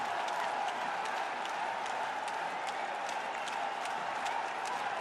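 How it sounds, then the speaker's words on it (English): A large crowd of Bangladesh fans at a cricket match cheers and claps after an early wicket, a dense, continuous roar of applause with sharp individual claps throughout, loud and sustained without pause. "And the crowd erupts."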